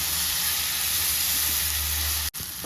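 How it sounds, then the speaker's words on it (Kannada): Tomatoes frying in a pan with onion and ginger-garlic paste for a Konkani-style egg masala, giving a steady, loud, close hiss and sizzle with no talk and a brief dropout near the end. "ಈಗ ಇದಕ್ಕೆ ನಾವು ಕಟ್ ಮಾಡಿ ಇಟ್ಕೊಂಡಿರೋ ಟೊಮೆಟೊನ ಹಾಕಿ ಫ್ರೈ ಮಾಡಬೇಕು"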